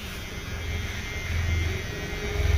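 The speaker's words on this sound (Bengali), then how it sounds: "এই সাইডেও আমরা একই সিস্টেমে বেলটের পরিবর্তে জিরো মেশিন দিয়ে রাউন্ডটাকে লাগিয়ে নিলাম।" An electric hair clipper, a zero-guard trimmer, cuts hair close by with a steady, slightly wavering buzz that runs for a couple of seconds.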